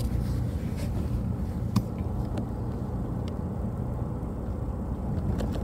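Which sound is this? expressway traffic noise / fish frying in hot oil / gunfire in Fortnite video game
expressway traffic noise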